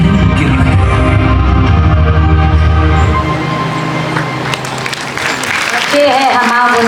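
Crowd applause at a tourism and peace themed gathering in Bundelkhand, a loud wash of clapping that rises and continues steadily, with a low droning tone under the first half and some raised voices mixed in later.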